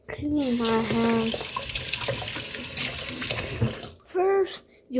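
Hands washed under a running kitchen tap while making strawberry banana juice, a steady close water rush with splashing, and a voice talking at the start and again near the end.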